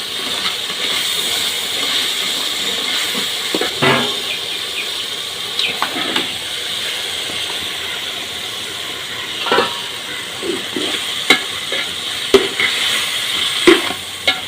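Fried chicken pieces are stirred into a tomato masala for a Chalakudy dum biryani, with a steady close sizzle and hiss broken by scattered scrapes and clinks of a spoon against the pot.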